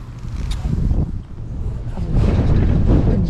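Wind blows over a canal in South Yorkshire, a steady rough buffeting against the microphone that swells louder toward the end.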